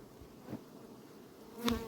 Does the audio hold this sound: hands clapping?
no